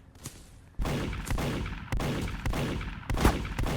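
Gunshots in the Roblox video game Dead Rails ring out as about five or six sharp, loud, close reports at roughly half-second intervals, each leaving a short echoing tail.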